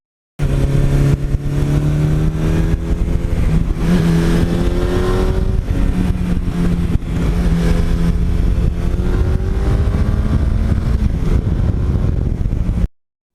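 Suzuki GS1100E motorcycle engine running while riding, a continuous loud, close drone with the pitch rising and falling as it accelerates and shifts gears, heard alone without talk.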